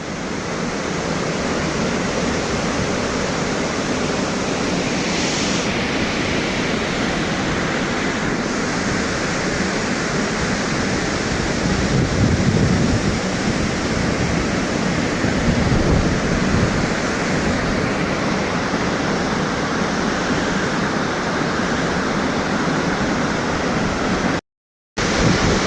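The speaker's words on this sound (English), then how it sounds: "this is the lower side of the falls, and the water is roaring" Water roars at the base of Thomson's Falls, a 74-metre waterfall at Nyahururu in Kenya, as a dense, steady, loud rush of noise that lasts throughout, close by and without voices.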